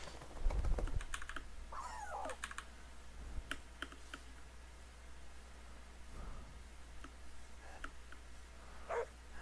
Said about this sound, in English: Why is that the regular dog sound?